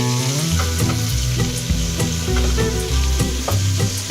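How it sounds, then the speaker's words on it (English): Garlic fries at high heat alongside shrimp and zucchini in a hot pan, giving a dense, loud continuous sizzle with low rumbling and a few scraping stirs, close up and without voices. "Once the garlic begins to cook, then you can mix it all together"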